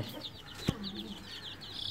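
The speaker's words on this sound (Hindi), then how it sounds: "ये हमारा असील मुर्गा बहुत ही फाइटर" An Aseel rooster clucks in short bursts, with one sharp thud partway through and soft, faint background noise.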